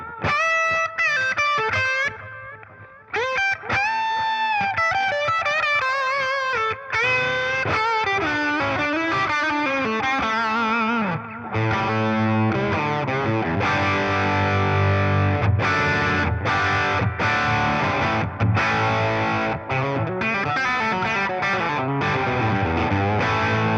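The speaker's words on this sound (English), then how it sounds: "Let's check out some of these soaring lead kind of tones here." An electric guitar plays soaring, sustained lead lines through a touring pedalboard with heavy distortion and effects. Long singing notes and bends ring out loud and continuously, with no talking.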